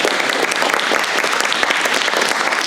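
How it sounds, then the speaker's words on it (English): Steady, loud round of applause from an audience thanking speakers at a session on rural stress, a dense unbroken patter of many hands filling the room with no voices over it. "Give them a round of applause"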